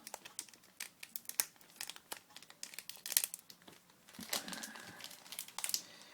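Crinkling and tearing of a tough sealed booster pack from a Japanese Emerald Break trading card display, with close, irregular plastic crackles and rips throughout and no talking.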